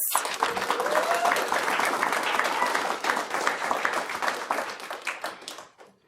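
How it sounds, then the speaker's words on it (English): A crowd at an Ogden City honoring ceremony claps steadily in sustained applause, dense and full for several seconds before tapering off at the end. "So let's give a round of applause for Bess."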